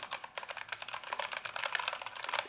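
Typing on an ErgoDox EZ Glow split keyboard fitted with Kailh Copper switches, a quick, uneven run of close, crisp keystrokes with no voices.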